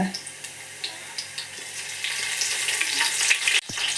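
Mustard seeds, cumin and curry leaves frying in hot oil, a light crackle with small pops that swells into a louder, denser sizzle halfway through, ending in a brief thump.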